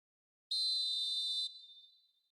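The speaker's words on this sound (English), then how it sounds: "There's the whistle then to start the second half" A single long referee whistle blast, about a second, sounding to start the second half of a football video game match, loud and shrill, then a short fading ring-out with no talk.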